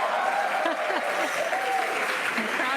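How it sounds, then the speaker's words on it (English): A crowd at a SpaceX Crew-10 rocket launch cheers and applauds steadily, a dense continuous wash of clapping and shouts mixed with a commentator's voice over the top. "the crowd is going wild"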